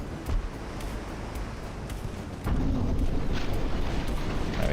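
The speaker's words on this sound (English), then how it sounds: "we got 2 solid torpedo hits" Torpedo hits exploding against a warship in the naval game Ultimate Admiral: Dreadnoughts, during a 1902 US campaign: a loud, rumbling blast that swells suddenly midway into a sustained roaring wash of water and debris.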